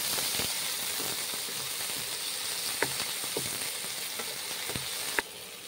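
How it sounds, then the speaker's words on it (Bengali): Onions and tomatoes fry in a wok with a steady close sizzle, punctuated by occasional clicks and scrapes of stirring. "পেঁয়াজ ভেজে নিচ্ছি এবং টমেটো ভেজে নিচ্ছি"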